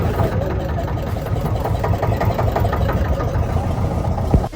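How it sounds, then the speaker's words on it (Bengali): A boat's generator engine chugs steadily at a moderate idle on the Ganges at Varanasi, a continuous low mechanical rumble with faint knocking, close by and unbroken. "আমাদের জেনারেটার আস্তে কিন্তু চলতে শুরু করেছি"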